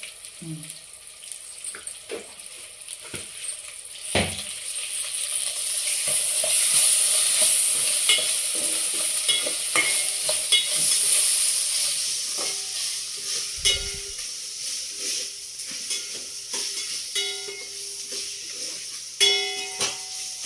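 Sliced onion and ginger-garlic paste fry in a pan for sambar: a continuous sizzle runs under scraping and stirring clicks, with water noises and brief speech scattered throughout.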